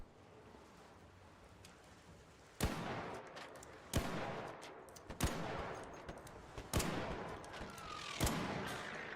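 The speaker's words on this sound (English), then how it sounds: "This queen is shooting missiles at me" Missiles fired by the Queen enemy in ARC Raiders, a series of about six sharp explosive blasts at irregular intervals, each followed by a rumbling tail over a low steady background.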